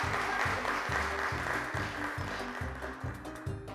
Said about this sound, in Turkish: Kocaman bir alkış yaptık.